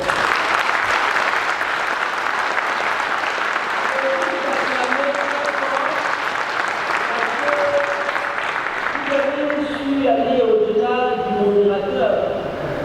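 Audience in a conference hall breaks into loud, sustained applause that fills the room, while a voice speaks over it toward the end.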